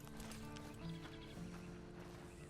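Horse hooves clopping and a whinny in the Western video game Red Dead Online, close and steady over a low musical drone, with no talking.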